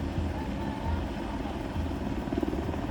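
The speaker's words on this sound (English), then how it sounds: "the lifeguards and the helicopter were circling around for half an hour in Leblon" A rescue helicopter circles over the beach at Leblon in Rio de Janeiro, giving a steady, fairly loud rotor thrum that holds throughout the clip over a low rumble of beach ambience.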